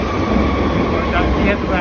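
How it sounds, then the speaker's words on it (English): A train pulls into a station with a loud, continuous rumble and a steady mechanical hum that swells slightly as it comes close. "Yeah, train's coming. Train's coming."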